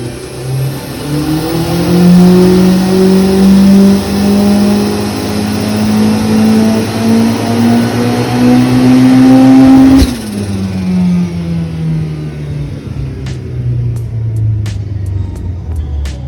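A Datsun 1200 ute with a turbocharged CA18 engine and automatic transmission, making over 400 horsepower, revs loudly and climbs steadily in pitch for about ten seconds, then drops off to a lower, fading engine tone with faint clicks.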